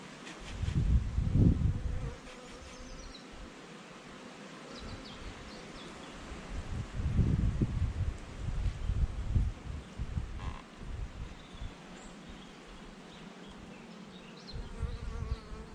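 Honeybees buzz around frames lifted from a double brood hive, a soft steady drone that swells twice as bees fly near, with light handling and rustling noises.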